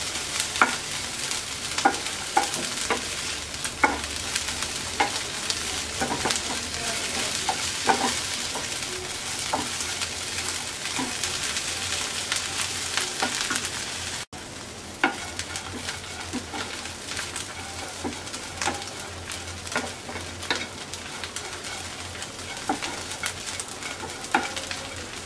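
Dried shrimp (shutki) fry in a pan with a continuous crackling sizzle and occasional stirring clicks, while a pigeon coos softly in the background.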